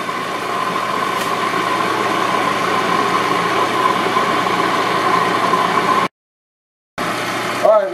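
An electric butter churn spinning cream into butter, with a little salt added, runs as a loud steady motorized hum, cuts out briefly near the end, then starts up again.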